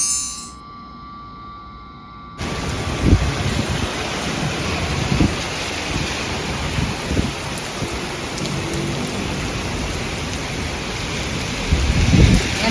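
Super Typhoon Uwan batters the area with heavy, steady rain and gusting wind at dawn, a dense roar that surges after a brief quieter start and swells again near the end.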